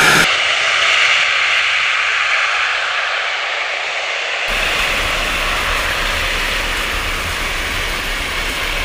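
A NASA lunar landing test vehicle roars continuously as it descends. The loud, dense engine noise holds throughout and shifts to a deeper rumble partway through.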